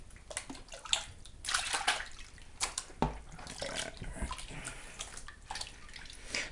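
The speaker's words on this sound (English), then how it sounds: "We're just gonna pour that all into the big finishing pan, or a bigger finishing pan." Gold paydirt and water are poured into a large finishing pan, giving a series of splashing, sloshing pours with drips between them, close and fairly loud with no talking.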